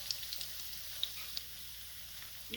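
Coated potato sticks fry in a shallow pan of oil, producing a faint, steady sizzle with occasional small pops and crackles.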